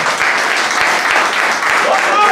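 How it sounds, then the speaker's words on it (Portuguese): Church congregation clapping in praise, loud continuous applause filling the short stretch with a dense wash of hand claps. "Dá uma salva de palmas para Jesus."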